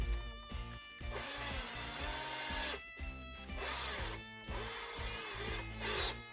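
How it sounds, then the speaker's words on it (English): A power drill bores a pilot hole for mounting floor boards on a 1968 VW Beetle, in several bursts with short pauses between them, close and fairly loud. "we'll drill a pilot hole."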